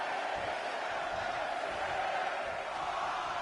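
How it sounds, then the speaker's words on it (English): Steady, dense roar of a video game wrestling crowd cheering, loud and continuous throughout with no clear breaks. "Listen to this crowd."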